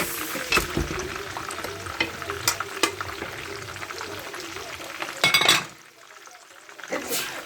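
Mutton pieces fry in separated oil in a pan for biryani, giving a close sizzle broken by clinking, scraping stirs, with a brief pause near the end.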